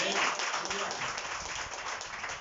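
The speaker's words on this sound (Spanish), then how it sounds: "Dale un aplauso al Señor." A church congregation applauds, a brief steady wash of clapping with voices mixed in throughout.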